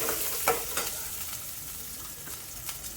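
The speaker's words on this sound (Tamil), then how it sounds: "நல்லா வதக்கலாம் நல்லா செவக்க வறுத்துடலாம்" Steady oily sizzling of food frying in a pan, with occasional scraping knocks of a spoon stirring, close and continuous.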